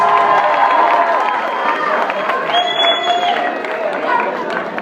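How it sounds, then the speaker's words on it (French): An audience at a bar DJ battle results announcement applauds and cheers a competitor, a continuous dense roar of clapping and crowd noise with tonal sounds mixed in. "Et je veux qu'on l'applaudisse."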